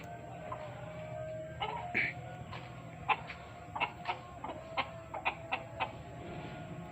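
A black hen with three chicks and a rooster in a hot farmyard, giving a series of soft, fairly distant clucks and short calls in an irregular rhythm over quiet background noise.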